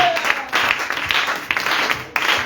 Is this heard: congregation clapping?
yes